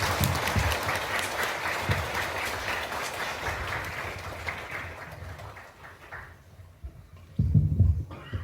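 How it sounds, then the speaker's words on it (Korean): Monks and the assembled crowd at a Buddhist memorial ceremony at Donghwasa clap at length, a broad wash of applause that slowly fades. Lower rumbling thuds and movement noise follow near the end. "문도 스님들과 사고대중은 큰 박수 부탁드리겠습니다"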